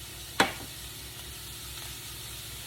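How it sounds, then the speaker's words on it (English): One stick of butter melts in a pan for gluten-free holiday stuffing, giving a faint, steady sizzle with a single sharp clack near the start. "you want to melt your 1 stick of butter"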